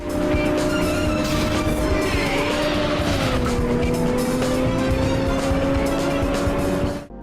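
Racing cars in the cel-shaded PS2 racing game Auto Modelista, with a loud, steady engine drone whose pitch dips and rises again, plus tire squeal, running continuously and close throughout.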